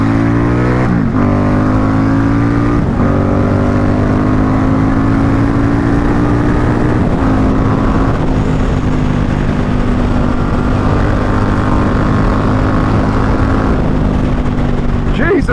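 A Ducati XDiavel S motorcycle rides round a roundabout, its engine droning loudly and steadily with rising and falling revs as gears change, close and continuous over wind rush.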